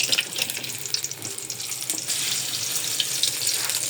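An egg fries in hot oil with a dense, loud, crackling sizzle that spits and hisses continuously throughout, close up, with no talking.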